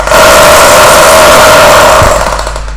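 A Bosch 3-function 220V electric drill runs at speed with a loud, steady whine and a buzzing motor tone, then begins to wind down at the end, with no speech.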